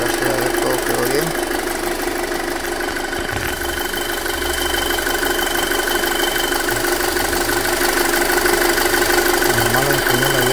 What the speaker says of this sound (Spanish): Tengo oído, el motor ya está encendido.